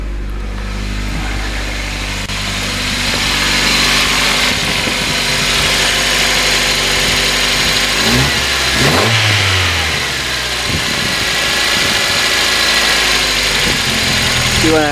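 A car engine idles and revs after its throttle body was cleaned, rising and falling in pitch as the throttle is pulled and released, loud and close with a deep low rumble throughout.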